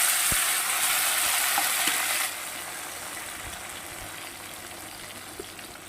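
Onion and tomato go into hot oil with cumin seeds and fry with a steady, close sizzle. The sizzle is louder at first and eases to a softer, even hiss, with a few light clinks of stirring and no talking.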